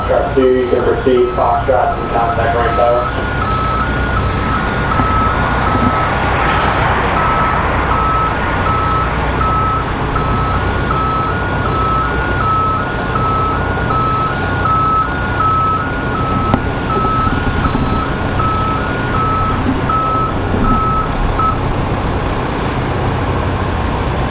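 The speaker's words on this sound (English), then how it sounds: "Got an American 737 being towed out this way" Airport tug towing an American Airlines 737 out at Raleigh-Durham International, its reversing alarm beeping in an even, steady rhythm over a constant low engine and traffic rumble.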